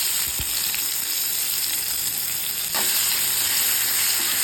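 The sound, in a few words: chopped onions frying in hot oil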